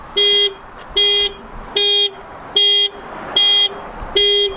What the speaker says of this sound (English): someone's gonna honk the horn